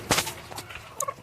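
Medak breed chickens and double-body breeder hens on a farm give a few short gobbling clucks and squawks, close by and brief, with quiet gaps between calls.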